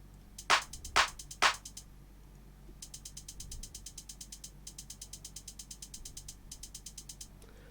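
A hi-hat pattern in FL Studio plays a fast, steady run of light, crisp ticks in repeating bursts, preceded by three louder sharp hits.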